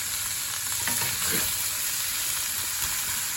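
Cheesesteak meat and onions sizzle and crackle steadily on a flat top grill, with a dense, constant frying hiss and a few faint stirring scrapes.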